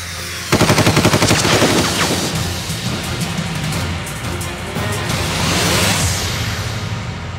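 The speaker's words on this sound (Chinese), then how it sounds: "有枪声！" Rapid bursts of gunfire from an action war film, a fast machine-gun rattle followed by scattered loud shots and whooshes, close and dominant with no talking.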